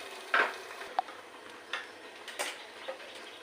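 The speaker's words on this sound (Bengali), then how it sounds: "তেলটা গরম হয়ে গেছিলো এবারে এই আলুগুলো রাখা আছে এখানে ওর মধ্যে কষিয়ে দেবো" Potatoes stir-fried in hot oil, a soft steady sizzle broken by a few light ticks and scrapes of a spoon against the pan.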